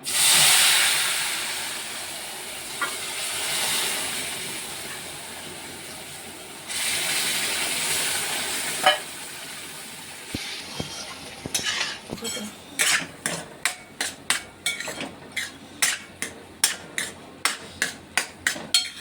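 Milk poured into hot roasted semolina sheera with cashews, almonds and cardamom, first a long loud steaming hiss and bubbling, then a quick run of sharp spoon clacks against the pan as it is stirred, close, no talk.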